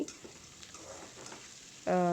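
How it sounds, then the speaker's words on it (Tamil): Soft, steady sizzling of onions sautéing in a pan, low and continuous, ending with a sudden louder tonal burst near the end. "வெங்காயத்தை நல்லா வதக்க விட்டுடலாம்"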